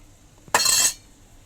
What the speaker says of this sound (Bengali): একটু জলটা দিয়ে দিই এখানে বাটি ধোয়া জলটা আছে